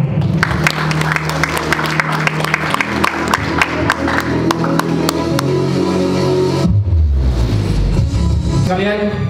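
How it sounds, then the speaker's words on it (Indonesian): An audience at a product launch event bursts into loud, sustained applause with cheering, steady clapping throughout, under a voice over a sound system. "Mari beri tepuk tangan yang paling meriah."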